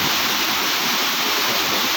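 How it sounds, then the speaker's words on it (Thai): Loud, dense rushing of fast-flowing river water, a continuous broadband roar with no pauses and no voices. "น้ำไหลแรงปุ๊บปุ๊บปุ๊บนะครับ"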